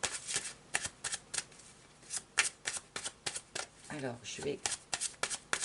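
A Tarot de Marseille deck of cards is shuffled, giving a rapid run of crisp riffling flutters and snaps, close and clear, while a voice speaks briefly over it.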